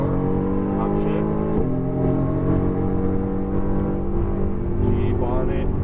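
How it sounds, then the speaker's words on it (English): Engine of a Mercedes-AMG GT R pulling hard on a racetrack, heard from inside the car as a loud, steady drone that rises in pitch through the gears, with a short break at a shift and a voice talking over it. "Go ahead and start to pick up throttle down the main straight"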